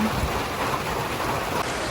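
Steady rushing flow of a river in a Philippine province, a continuous broadband wash of water, close and moderately loud without pauses.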